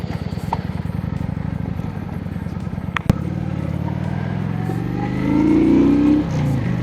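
Motorcycle cruising along a rural village road in the USA, a steady close engine drone with wind rush, briefly building in pitch as it gains speed.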